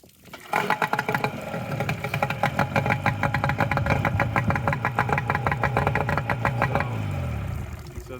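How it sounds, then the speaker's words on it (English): A new boat outboard motor starts up and idles steadily with a rapid, even putter for several seconds before it cuts off near the end. "This is the new outboard."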